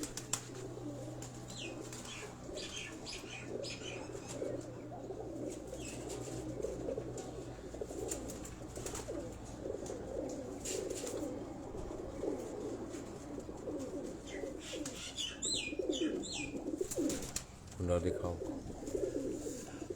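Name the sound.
pigeons cooing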